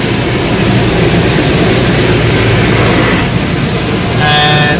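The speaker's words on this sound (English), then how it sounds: "Now I am getting a jet water wash" High-pressure water jets blast a car inside an automatic tunnel car wash, a loud, continuous hiss and roar with machinery hum, ending in a brief tonal whine.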